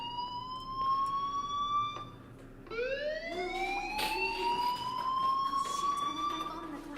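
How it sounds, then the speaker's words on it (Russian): A wailing alarm siren sounds in the Life Is Strange video game, rising and sustaining in long sweeping tones, fairly faint, with a second siren swell joining partway through. "ты что, сирену не слышишь?"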